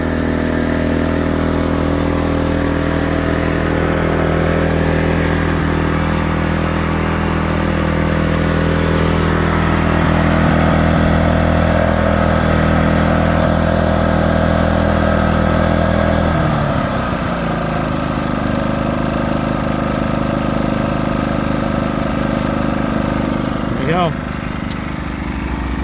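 A petrol generator engine, freshly repaired pull cord, runs loud and close at a steady idle throughout, its rough mechanical drone briefly dipping and shifting in pitch partway through before settling again.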